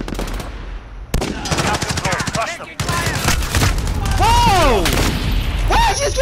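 Rapid automatic gunfire and single shots from the video game Modern Warfare during a team deathmatch, loud and close, continuing through most of the stretch with game effects mixed in.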